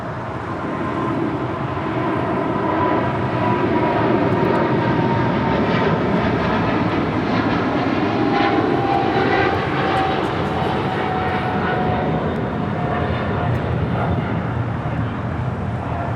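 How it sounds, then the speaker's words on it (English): A China Cargo Airlines Boeing 777 freighter roars on its takeoff run, a loud, sustained, broadband jet engine rumble with shifting whining tones, close and continuous throughout. "This is China Cargo Airlines Cargo King 222 headed out to Shanghai on a 777 freighter"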